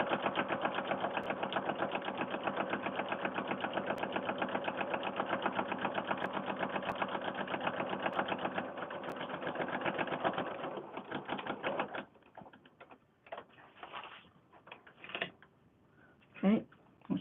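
A sewing machine stitches fabric for a fabric book with a steady, rapid mechanical chatter for about ten seconds. Then come short bursts of back stitching and handling clicks, close and fairly quiet.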